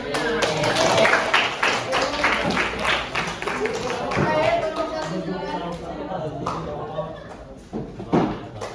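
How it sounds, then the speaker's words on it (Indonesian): A classroom group claps together after a student presentation on basketball invasion games, with dense, fast, irregular hand claps sustained near and loud for several seconds before tapering off. "Kasih tepuk tangan."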